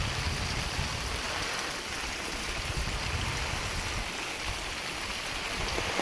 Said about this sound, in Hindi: देखिए तो पूरे खेत में इस तरह से बहते हुए आ रहा है पानी।